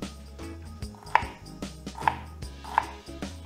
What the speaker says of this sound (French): Quand vous émincez un oignon, allez-y tranquille.